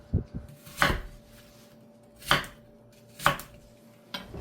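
Four sharp knife chops dicing an apple on a cutting board, spaced irregularly with quiet gaps, close and crisp against a faint background hum.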